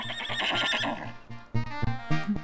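A horse in the 1993 PC game Kids Zoo gives a loud, shrill whinny over a light musical backing, followed by a few quick snorting bursts.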